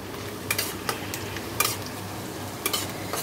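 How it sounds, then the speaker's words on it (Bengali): Onions sizzle steadily in a hot pan, a constant close hiss broken by a few sharp clicks and scrapes as a utensil stirs them. "পেঁয়াজ ভাজা হচ্ছে"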